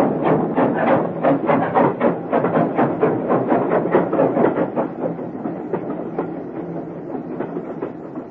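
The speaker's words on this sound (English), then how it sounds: "As the train sped out of Paddington" A train departing a station, with a steady run of rhythmic wheel clatter over rails and a dense rumble, loud and close throughout, gradually easing, with no speech.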